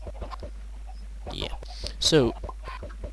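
Minecraft chickens packed inside a chicken killing machine in the video game, giving repeated short clucks and squawks in an irregular rhythm, with a voice talking briefly in the middle.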